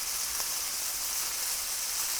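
Fat on the edge of a rib eye steak, pressed against a hot frying pan to render, gives a steady, soft, close sizzling hiss, unbroken for a couple of seconds with no talking.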